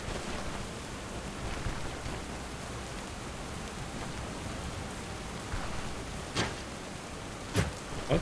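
Steady rain hiss in the fantasy RPG Stoneshard, a dense even wash of falling water with a few brief sharper spatters near the end, with no voices.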